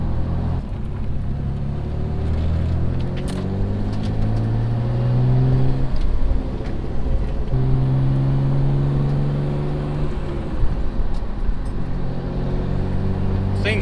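Rebuilt Mitsubishi 3000GT VR4 on its first drive, a steady in-cabin engine drone rising and falling through gear changes as it accelerates, with someone talking over the engine throughout.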